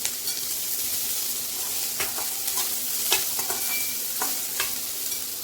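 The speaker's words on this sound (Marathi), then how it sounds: "कांद्याला छान फ्राय करून घेऊया." Onions fry in a pan for a bitter gourd dish with a continuous close sizzle, broken by several crisp scraping stir strokes at irregular intervals and no voices.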